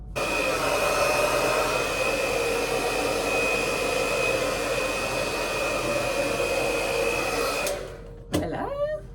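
A hair dryer blowing on freshly cut bangs, a loud, steady whine with a whistling tone, running continuously and then cutting off abruptly near the end, followed by brief handling noise.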